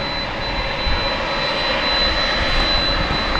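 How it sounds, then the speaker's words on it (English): An American Airlines Boeing 737 MAX 8 arrives at DFW on a windy night, its jet engines giving a steady, fairly loud broadband roar that holds evenly throughout with no voices. "watch American Flight 2465, a MAX 8 coming in from Santa Ana"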